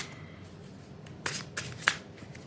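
A deck of tarot cards is shuffled up close, giving a quiet riffle followed by a few crisp flicks and snaps of cards near the end.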